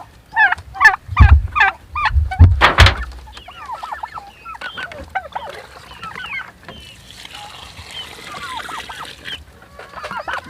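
Turkeys gobble in a burst of loud, close, repeated calls while being fed wet feed, followed by softer, scattered clucking and chattering from the flock, with brief splashing sounds.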